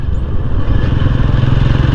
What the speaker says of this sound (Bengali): এবার আমি আমার টিভিএস বাইক নিয়ে যাচ্ছি